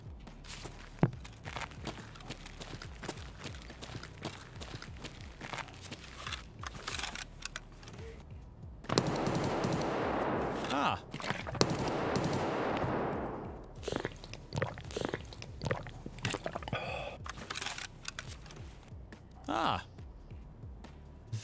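Gunfire in the video game Escape from Tarkov on the Interchange map: a dense burst of shooting in the middle, with scattered sharp shots and clicks before and after, under talk.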